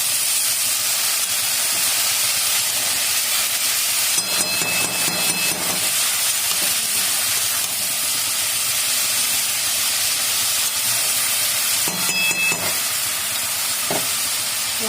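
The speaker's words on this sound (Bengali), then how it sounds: "ঢাকা দিলেই লাউ থেকে জল বেরোবে, জল বেরিয়ে ওই জলেই লাউ সেদ্ধ হয়ে যাবে।" Bottle gourd cooks in its own released water in a covered pot, giving a continuous steady hiss of steam and simmering with a few faint clinks and rattles and no talking.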